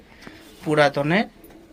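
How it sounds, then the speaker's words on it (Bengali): Madrasi pigeons coo from a rooftop loft, with a short burst of throaty, rolling coos about a second long standing out clearly over a quiet background. "এখানে এই যে কবুতর দেখতে পাচ্ছেন, এখানে কিছু বেবিও রয়েছে"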